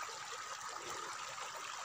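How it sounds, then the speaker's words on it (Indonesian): Water flows in a steady, faint trickling stream, a continuous soft wash with no voices over it. "wih, sedapnya airnya mengalir"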